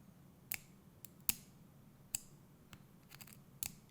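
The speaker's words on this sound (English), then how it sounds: "It makes a clicking noise when you plug it in." A portable SSD's USB cable gives small, sharp clicks as it is plugged in, several isolated close ticks spaced irregularly over a quiet background.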